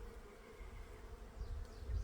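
A swarm of honey bees buzzes steadily while being moved into an insulated horizontal Layens hive, a dense, close insect drone that swells slightly toward the end, with no talking.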